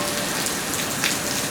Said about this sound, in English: it's just a good solid rain right now